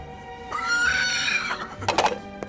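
A horse neighs loudly and close, a long shrill whinny that rises and trails off into snorting breaths.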